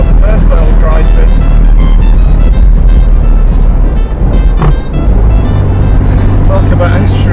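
A 1970 Fiat 500F on a test drive, its small engine droning loud and close with a steady rumble that shifts tone partway through, while a voice talks over it.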